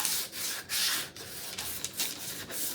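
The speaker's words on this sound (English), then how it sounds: "and I do a little sanding" A wooden board is sanded by hand in close, rhythmic back-and-forth rasping strokes, about two per second, with short pauses between them and no talking.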